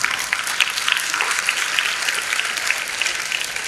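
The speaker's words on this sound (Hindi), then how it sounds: "अगर बात अच्छी लगती हो तो ताली बजाओ और नहीं लगती तो मत बजाओ" Audience applause at a spiritual discourse, a steady moderate clatter of many hands clapping together throughout, with no voices over it.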